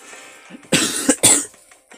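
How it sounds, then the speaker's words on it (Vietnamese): Two sharp coughs close to the microphone from someone with an itchy throat, each a short harsh burst about half a second apart, with near silence before and after. "Muốn ho quá anh em ạ, ngứa họng rồi đấy"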